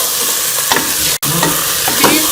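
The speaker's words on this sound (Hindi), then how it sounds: "बीफ को मैंने मसाले के साथ अच्छी तरह से भून लिया है।" Beef frying with spices in a pot for degi korma, a steady loud sizzle with a few stirring scrapes and a brief clatter of the spoon midway.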